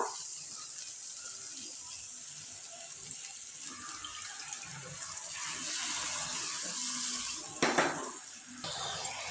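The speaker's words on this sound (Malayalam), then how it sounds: "വെള്ളം ഒഴിച്ചെടുക്കാം." Water is poured into a pan of mushroom gravy, giving a continuous rushing, hissing pour that swells slightly toward the end, with a brief clatter near the close.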